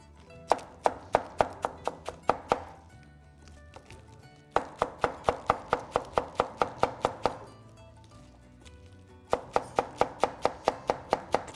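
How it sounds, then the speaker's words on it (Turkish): A knife chops curly lettuce on a cutting board in a Turkish Anatolian kitchen, giving quick, evenly spaced crisp taps in three bursts with short pauses between them, close and fairly loud. "Küçük şöyle bir doğrayalım."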